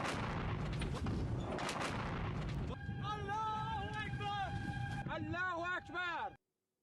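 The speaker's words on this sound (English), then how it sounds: "Cameras caught the moment of this explosion." An explosion on an oil tanker attacked at sea sends out a loud, rumbling blast, followed by a wavering, siren-like horn blaring over the noise before it cuts off abruptly.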